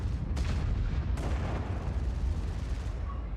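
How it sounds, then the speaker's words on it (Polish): Gunfire in a competitive shooter match at a 2024 esports final, with a few sharp booming shots early on followed by a low rumbling tail, heard alone. "Blur zaraz coś strzeli, kolejne strzały"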